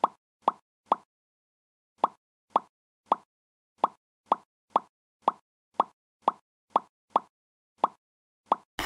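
A puzzle-shaped silicone Pop-It fidget toy is pressed bubble by bubble, giving a series of crisp, close plops in quick bursts with short pauses between groups, loud against near silence.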